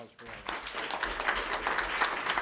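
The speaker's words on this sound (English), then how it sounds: "if we could have a real round of applause for" A round of applause at a city commission meeting in Marquette, a moderate spread of clapping from the room that starts abruptly after a brief moment of talk and carries on steadily.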